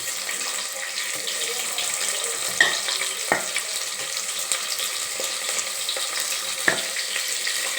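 Onion and green chilli hit hot oil already holding whole spices and cumin, giving a dense, steady hiss that is fairly loud and close, with a few faint clinks of a utensil and no talking.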